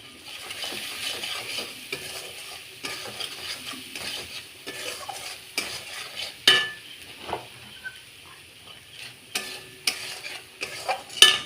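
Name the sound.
spices being stir-fried in a pan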